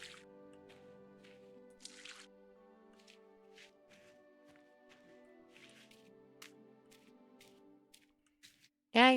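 Watering plants in the video game The Regreening gives soft, scattered drips and splashes over gentle background music, ending with a louder burst at the close.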